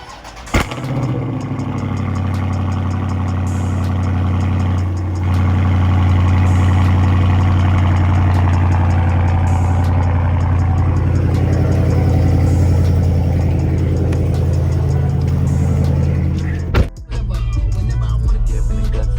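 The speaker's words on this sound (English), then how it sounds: "we gotta hop out and get the little cold start" A Dodge Charger Scat Pack V8 fires up on a cold start with a sharp burst, then settles into a loud, steady, deep idle that drones on for most of the stretch, with a brief interruption near the end before resuming.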